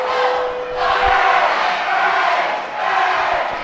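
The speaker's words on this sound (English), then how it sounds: "listen to that Truman crowd doing the Truman chant" Truman high school crowd chanting at a game, a loud, roaring mass of voices in rhythmic swells that rise and fall across several seconds.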